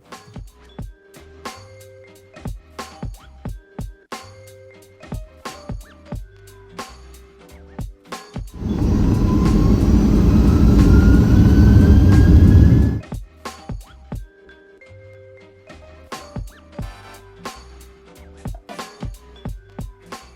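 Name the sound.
airliner taxiing and taking off from Chicago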